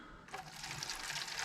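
Mineral spirits splash and pour into the cut-off bottom of a plastic milk jug, a short, close liquid gush that starts abruptly and keeps flowing.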